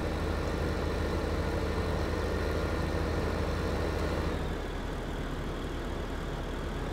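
A tractor engine in the Farming Simulator 2015 video game drones steadily at a constant loud level with a deep rumbling low end, dropping slightly in level partway through.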